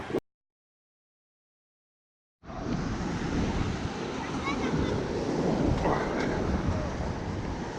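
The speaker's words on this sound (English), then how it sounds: "Waves are kicking." Ocean waves pounding a Philippine beach during a typhoon, a dense, steady roar of surf mixed with heavy wind buffeting the microphone, starting after a brief silence and continuing loud and unbroken.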